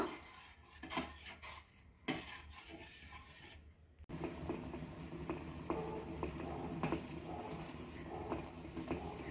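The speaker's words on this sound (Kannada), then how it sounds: "ಕುದೀತಾ ಇದೆ" Masala lemon tea bubbling in a pot while a spoon stirs it, with scraping and clinking against the metal and a steady boiling hiss that grows denser and louder partway through.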